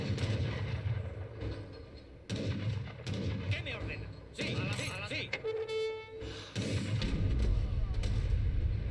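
Cannon artillery fire in the Age of Empires III strategy game, heavy booming blasts recurring throughout amid battle noise, with a brief whistling tone midway.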